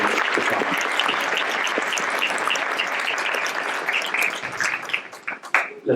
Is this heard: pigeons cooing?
no